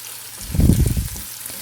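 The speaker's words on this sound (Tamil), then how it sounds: "தக்காளி சேர்த்துட்டு அது கொஞ்சம் மசிஞ்சு வர வரைக்கும் வதக்கி விட்டுக்கலாம்." Tomato sautéing in hot oil in a pan for a prawn curry, a soft sizzle swelling briefly into a louder, stirred burst of frying before easing back to a low, steady hiss.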